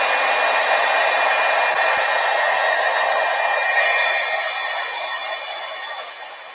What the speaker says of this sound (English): now I'm going to heat set that, and that's going to be nice and shiny